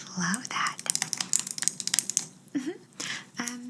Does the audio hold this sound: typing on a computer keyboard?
yes